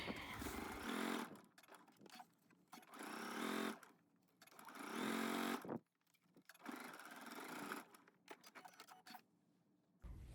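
Sewing machine stitching a 5/8-inch seam on a vintage McCall's 8380 dress pattern, running in several bursts separated by brief pauses, close and fairly loud with no talking.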